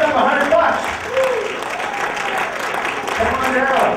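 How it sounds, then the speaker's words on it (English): Live audience clapping at a magic show, a steady round of applause running throughout with a presenter's voice and cheers mixed in over it. "everybody will give you a big round of applause"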